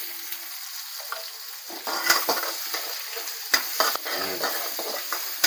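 Onions and cumin roast in a pan for jeera rice, with a continuous sizzle broken by repeated scraping and stirring strokes of a utensil against the pan, close and fairly loud.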